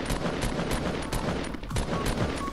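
Dense, continuous gunfire in the video game Fortnite, rapid overlapping shots forming a loud, busy fusillade throughout.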